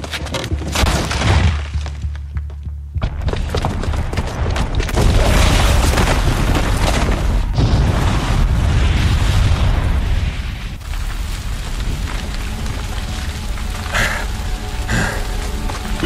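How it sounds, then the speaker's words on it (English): A booby-trapped bomb exploding in Horizon Zero Dawn, a loud sustained blast with rumbling booms and crumbling debris, followed by continued roaring destruction and crackling. "the booby trap on the bomb downstairs is gonna get set off."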